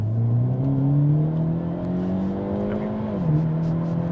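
Hyundai Elantra N with a dual-clutch transmission revs inside a tunnel, its engine note climbing smoothly, dipping briefly at a shift, then holding a strong, echoing drone.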